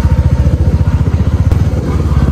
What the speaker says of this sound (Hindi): चलो गाइस अपनी बाइक लेके चलते हैं